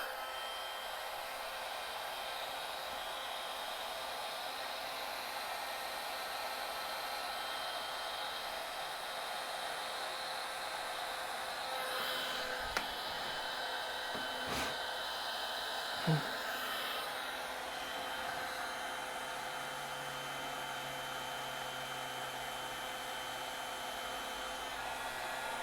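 A heat gun shrinks heat shrink tubing on an LS3 transmission wiring harness, a steady, moderately loud blowing roar that continues for the whole stretch with a few faint clicks and knocks.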